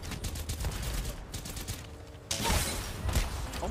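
A Sentinel sniper rifle shot in Apex Legends, during a gaming match with busy background game noise; a sharp loud burst lands midway, followed by more dense crackling activity.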